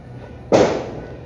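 A single firecracker goes off nearby with a sharp, loud bang whose broad crackle fades quickly over the next second; no voices accompany it.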